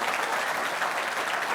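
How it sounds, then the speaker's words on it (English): A debate audience applauds the panelists after an economy debate, giving a brief burst of dense, loud, continuous clapping that fills the room. "Can I have a round of applause to each one of them, please?"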